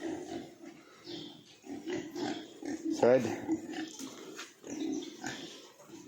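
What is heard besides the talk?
pigs grunting in pen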